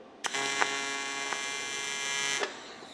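A DC welder struggles on an aluminum exhaust, giving off a steady, loud electrical buzz with stacked harmonic tones. Short crackling bursts punctuate it before it cuts off abruptly near the end.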